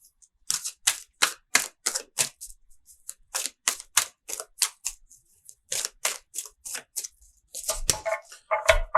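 Crisp, rapid bursts of bulky tarot cards riffling and snapping, about two dozen short rustling strokes in a quick rhythm, close and clear.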